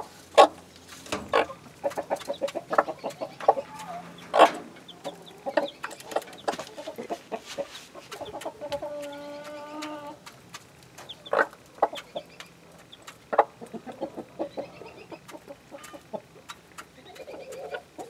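A hen clucks steadily to a newly hatched chick, nearby and fairly loud, with repeated short clucks and a brief higher call partway through.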